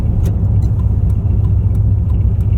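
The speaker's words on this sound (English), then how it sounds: "I'll let you hear it with the windows closed for the rest of the drive. Pretty quiet, just coasting." A 2001 Ford E350 Super Duty van coasting with its windows closed gives a steady low rumble of road and engine noise, heard from inside the cab, with no talk.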